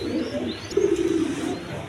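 A pair of Rajgolla pigeons, red-coloured birds sold with two chicks, coo in low repeated throaty phrases, close and steady, with no talk.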